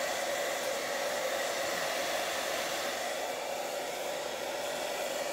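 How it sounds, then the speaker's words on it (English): A hair dryer blows steadily and loudly throughout, a continuous whooshing hum with no pauses, drying a gel plate print. "I guess the hairdryer definitely speeds it up"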